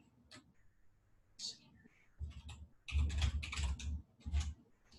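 Typing on a computer keyboard to enter a password in a lecture setting, with quick bursts of close key clicks broken by short pauses and soft speech-like sounds in between.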